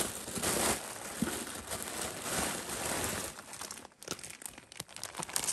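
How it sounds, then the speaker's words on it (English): Tissue paper from a mixed jewelry rescue box crinkles and rustles loudly up close during unboxing, a continuous crackling with sharper crunches toward the end, and no talking. "Here's the tissue paper."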